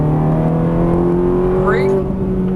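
A Ferrari 430 accelerating hard on a race track, its engine a loud, steady, close roar with a pitch that climbs as the revs rise, and a voice talking over it.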